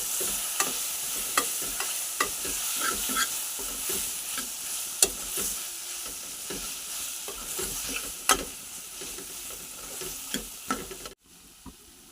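Ginger-garlic paste and turmeric are stirred into mutton curry in a sizzling pan, with repeated scraping and clacking of a spoon over a steady fry hiss that cuts off abruptly near the end.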